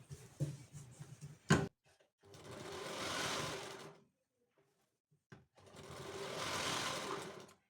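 A domestic sewing machine double-stitches a blouse seam in two steady whirring runs of about two seconds each. A sharp clack and a few small handling knocks come first, and a quiet pause separates the runs.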